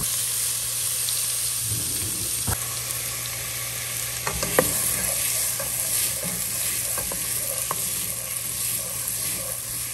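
Onions frying in heated oil, a steady broadband sizzle running throughout with occasional clicks and scrapes of stirring, close and continuous.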